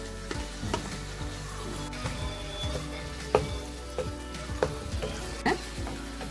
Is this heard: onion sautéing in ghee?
yes